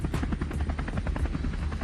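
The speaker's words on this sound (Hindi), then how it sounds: "लाइट कॉम्बैट हेलीकॉप्टर जो कि पूरी तरह से इंडिजिनस है, वह बना है।" An HAL LCH Prachand light combat helicopter, India's indigenous attack helicopter, flies past with a steady, loud rotor thump and engine whine throughout, no talk.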